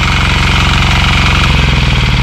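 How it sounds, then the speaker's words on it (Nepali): A tractor engine runs steadily nearby on a village farm, a loud continuous chugging rumble whose low pulsing deepens and strengthens partway through, with no voices over it. "ट्र्याक्टर चलाइरहेको छ"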